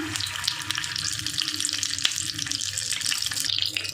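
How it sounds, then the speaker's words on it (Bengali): A pierced boiled egg drops into hot oil and fries with a loud, dense, continuous sizzle and crackle that stays close and even throughout, with no talking. "তেলের মধ্যে ছাড়লেই তেলের মধ্যে ছেড়ে দিলাম"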